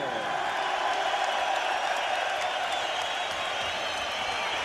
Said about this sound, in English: Another big round of applause for the Brit from Watford, the Messiah, James Zeke